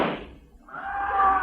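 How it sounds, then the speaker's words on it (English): A gunshot sound effect from a 1948 Abbott and Costello radio comedy: one sharp, loud burst at the start, a brief dip, then a sustained tonal sound that swells and holds until the end. "those shots came from outside the office."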